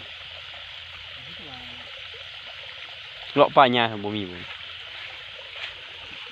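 Stream water flowing after rain, a steady soft rushing trickle running continuously in the background while someone speaks briefly over it.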